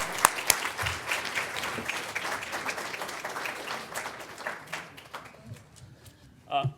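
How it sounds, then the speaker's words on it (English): Symposium audience gives a round of applause, steady clapping from a moderate-sized crowd that gradually thins and tapers off, with a voice briefly speaking near the end. "Please join me in giving Chair Rosenberger a round of applause."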